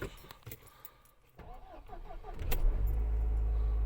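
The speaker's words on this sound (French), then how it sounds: "Donc, on va mettre la voiture en route." A 2-litre petrol Mercedes CLK 200 Elégance is started from inside the cabin: keys jingle, a short cranking whirr, then the engine catches and settles into a steady low idle.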